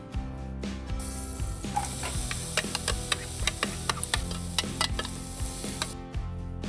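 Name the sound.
sliced onions frying in butter in a pan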